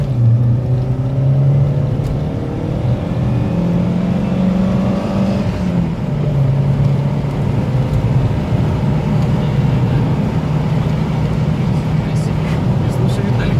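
Chipped VAZ-2112 running Yanvar 7.2 firmware, its engine droning loud and steady with a rising harmonic whine as it revs from low to high rpm through the gears, close and continuous throughout.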